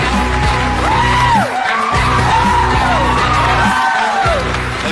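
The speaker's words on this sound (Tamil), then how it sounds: "ஆக்சுவலா ஏன் இவ்வளவு கைத்தட்டு?" A studio audience claps and whoops loudly as a guest walks on, with repeated shouts and cheers over a steady wash of applause.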